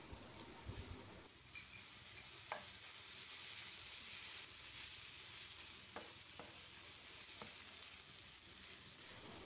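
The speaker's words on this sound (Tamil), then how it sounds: "வெங்காயம் 3/4 பதத்துக்கு வதங்கிடுச்சு." Chopped onions sizzle and sauté in a hot pan during home cooking, a continuous frying hiss broken by a few sharp stirring clinks, close and steady with no voices.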